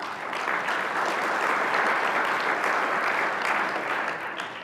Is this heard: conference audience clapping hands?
yes